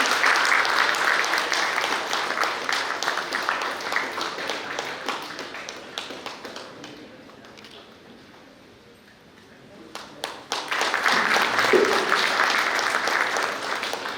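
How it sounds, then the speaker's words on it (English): Sustained applause from a large audience at the Indian Steel Conference in Bhilai, loud and steady, dipping briefly into quieter scattered clapping before swelling back to full strength. "I request our audience to give him a huge round of applause."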